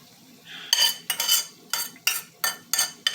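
A metal utensil scrapes and clanks repeatedly against a pan of pepper steak stuck to the bottom, a series of sharp rhythmic strokes under a faint background hiss.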